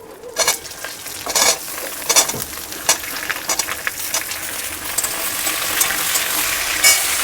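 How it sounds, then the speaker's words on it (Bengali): Steady sizzling of potatoes frying in hot oil left from frying fish, broken by several sharp scraping stirs of a spoon against the pan. "আমি এই মাছের তেলেতেই আলুগুলো দিয়ে দিলাম"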